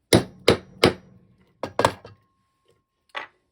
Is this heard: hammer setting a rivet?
yes